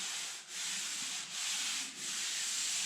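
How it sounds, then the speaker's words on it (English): Sanding body filler off an old OBS Ford truck body gives a steady, close, scratchy rasp in long strokes, with three brief dips where the sander pauses or changes direction. No one speaks. "We're sanding body filler off instead of putting it on"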